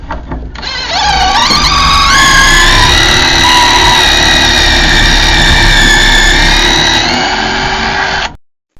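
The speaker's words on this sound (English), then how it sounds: "I don't know if you heard the note change, but it was seized in there and the gun just broke it free" An air impact gun working a seized brake caliper pin on a 2017 Ford Kuga, a loud, close, sustained whining buzz that rises in pitch and shifts tone as the pin breaks free, running several seconds before cutting off.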